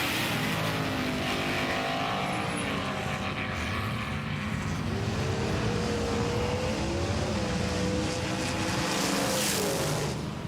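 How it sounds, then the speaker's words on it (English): 80-gram die-cast toy cars race along a track, making a steady, loud rolling rumble with a whirring whine that rises and falls in pitch throughout, with no voices. "powering through turn 2 and heading across that line"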